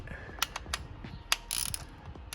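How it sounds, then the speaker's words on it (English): Several sharp ratchet clicks come in short bursts as 8mm bolts are cracked loose on a Mazdaspeed 3 engine, close and fairly quiet, with a brief rattle of metal between them. "so now we're just going to crack these 4, 1, 2,"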